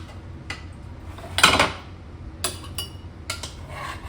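Peppers and onion go into a pickling jar, with clinks of glass and a clatter of utensils, one louder rattling burst followed by several short, close knocks in a quiet room.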